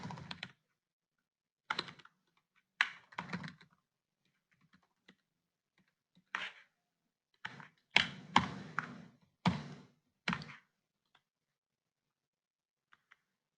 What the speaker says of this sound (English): Let me just type that answer.